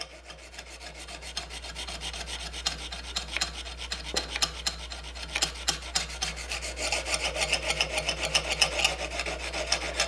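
A sharpening stone is dragged over the blade of a stock-removal knife near the plunge lines, making repeated close, gritty rasping strokes that speed up and grow louder, over a low steady hum with no voices.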